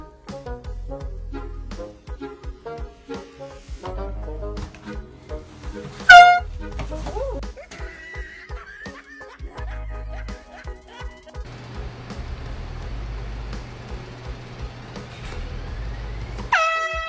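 A loud air horn blasts as a prank, with a sharp burst standing out amid a busy mix of short bursts, music-like tones and background noise, while voices talk around it.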